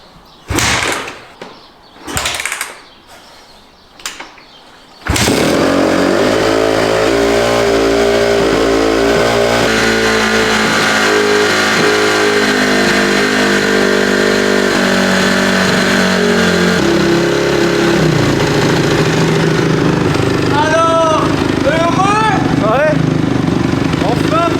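A freshly rebuilt Honda CRF 250 motorcycle with a new piston fires up after a few short bursts and voices, then runs loud and close, holding a steady idle before several sharp revs near the end.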